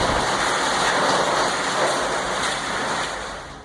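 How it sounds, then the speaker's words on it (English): Heavy storm rain pours down in Erbil, Iraq, a dense, steady broadband hiss that stays loud and continuous before easing slightly at the end, with no voices. "the first rains of the season began to fall in Erbil"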